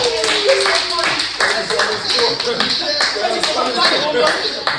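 An audience clapping along at a French-language show, brisk, fairly close hand claps with a loose rhythm running under a speaking voice throughout.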